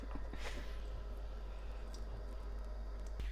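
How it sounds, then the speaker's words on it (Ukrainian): Ramen noodles being rinsed with boiled water from a kettle after the hot cooking water is drained, giving a steady, close rush of water with small squishy, dripping sounds throughout and no talk. "А тепер потрібно ці макарони наші промити."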